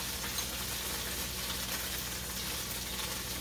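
Onions sear in a pan while cube steak is made for smothered gravy, producing an even, unbroken frying hiss at moderate volume, with a brief knock right at the end.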